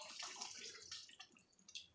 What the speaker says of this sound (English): now to this I'm going to add a half a can, of water